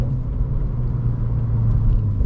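A car engine rumbles loudly and steadily from inside the cabin while driven spiritedly, a low constant drone with a slight swell toward the end and no talk.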